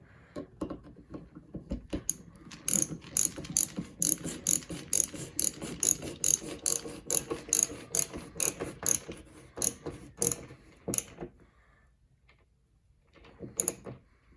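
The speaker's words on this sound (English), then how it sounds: "we're gonna take our Torx bit and just once again try to tighten this, make sure it's lined up correctly." A Torx bit ratchets as it tightens a liftgate glass hinge on a 2008-2012 Ford Escape, making a long run of loud, close, rapid clicks that stop, then a short final burst after a pause.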